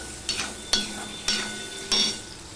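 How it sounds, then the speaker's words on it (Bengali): Ginger being stirred into frying potatoes in a pan: four distinct scraping strokes of a spoon against the pan at a steady, unhurried rhythm, each over a constant close sizzle, with no talking. "আদাটা দিয়ে আমি একটুখানি মিশিয়ে নিলাম।"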